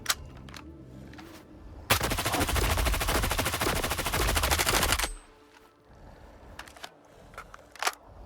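Sustained automatic gunfire in STALKER 2, a loud dense burst of rapid shots lasting about three seconds, preceded and followed by a few isolated single cracks over quiet ambience.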